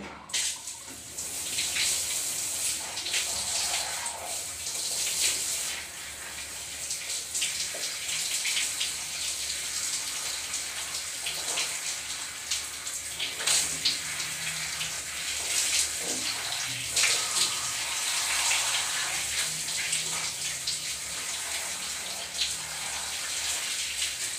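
Water runs steadily from a tap while a face is rinsed after scrubbing, a continuous close splashing rush with uneven spatters and drips throughout, no voices.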